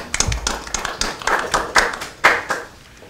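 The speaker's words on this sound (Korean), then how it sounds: "박수합니다" A handful of people at a Democratic Party media committee meeting clap in sparse, uneven bursts, with individual hand claps clearly distinct and close, tapering off after a few seconds.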